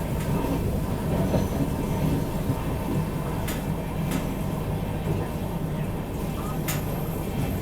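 A New Delhi–Mumbai Tejas Rajdhani Express passenger train rumbles steadily along the rails, heard from onboard, a continuous low clatter and roar with a few brief high squeals, close and loud throughout.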